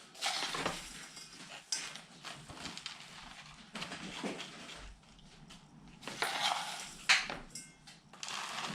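A small hand scoop scrapes and digs soil for a bonsai kit, producing soft irregular gritty scratches and light clinks, close and fairly quiet, with no one talking.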